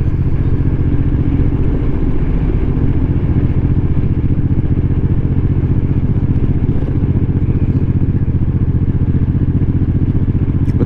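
A 1500 cc motorcycle engine while riding, a loud steady low rumble close to the mic with constant wind and road noise and no talk.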